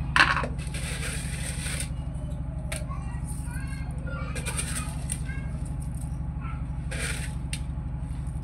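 Chili and salt ground into a spice paste for pindang fish, a pestle crushing and scraping in short repeated strokes over a steady low hum, fairly close.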